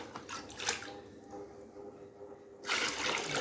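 Liquid pours steadily into a soap mixing container during multipurpose liquid soap production, a continuous close splashing stream that briefly swells, eases, then grows louder again near the end.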